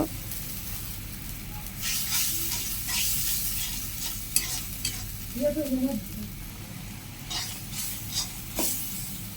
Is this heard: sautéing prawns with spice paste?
yes